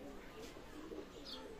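Pakistani teddy pigeons coo in a low, soft, continuous murmur, close and steady throughout, with a faint higher chirp near the end.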